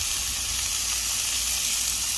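Steady, loud sizzling of ribeye steak frying on a hot Blackstone griddle, a continuous bright hiss with no pauses and no voices.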